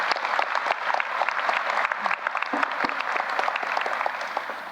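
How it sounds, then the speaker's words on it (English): An audience at a university investiture applauds the students, moderately quiet but steady clapping with distinct individual claps popping through a dense crowd wash, sustained throughout. "Let's applaud them."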